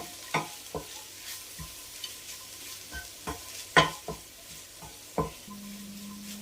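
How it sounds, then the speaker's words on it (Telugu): Chili powder fries with beetroot in a pan, heard as soft scraping stir strokes at irregular intervals over a faint low sizzle, with a brief steady hum near the end. "కారం పచ్చివాసన పోయేంత వరకు వేయించుకోవాలి రెండు మూడు నిమిషాలు"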